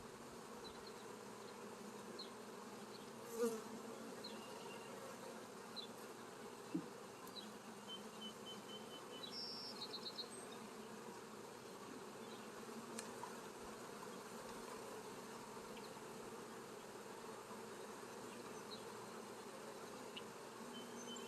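Honeybees buzzing around an opened hive with broken comb, a dense, steady swarm drone close by, with a few faint knocks and clicks and no voices.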